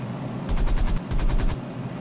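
P-38L fighter guns firing at a Bf 109 in the flight sim IL-2 1946, heard as two loud rapid bursts of automatic fire over a steady engine drone.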